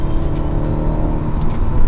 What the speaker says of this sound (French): À l'intérieur, on a une bonne insonorisation, mais on entend quand même ce 4 cylindres.